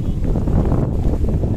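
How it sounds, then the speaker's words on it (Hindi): Strong wind buffets the microphone outdoors at Eco Park in Kolkata, a dense, rumbling roar that stays loud throughout with no voices. "बहुत हवा चल रहा है, बहुत हवा चल रहा है"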